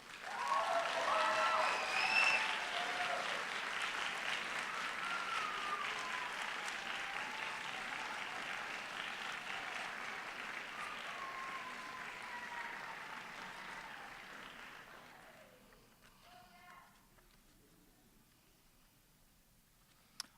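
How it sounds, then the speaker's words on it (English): Sustained audience applause at an optometry college convocation, a dense, steady wash of clapping from a large crowd that holds for about fifteen seconds before fading out, leaving quiet room sound. "giving them the best round of applause we've heard yet today."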